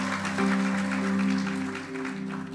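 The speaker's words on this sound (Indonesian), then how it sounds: "Tepuk tangan buat Tuhan Yesus" A church congregation claps for Jesus during a 14th anniversary evening service, a sustained wash of applause over a held keyboard chord that swells and then eases slightly toward the end.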